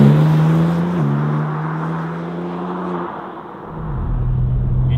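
A BMW M4 CSL drives on the road, its engine a steady loud drone that steps in pitch through gear changes, dips briefly, then rises again as it pulls away close by.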